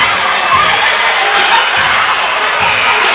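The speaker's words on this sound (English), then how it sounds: "you see the crowd is all pumped up and they're excited too" A packed arena crowd at a college basketball game between Paine College Lions and Voorhees Tigers roars and cheers continuously, loud and dense, with whoops and shouts rising through the steady wall of noise.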